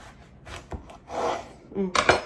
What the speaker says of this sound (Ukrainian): Отакий величенький баклажан ріжу на три частинки, щоб він такий товстенький був